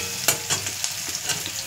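Boiled peas fry in a pan for ghugni while being stirred. There is a close, steady sizzle with a few sharp scraping strokes of the spoon at an uneven rhythm, and no voices.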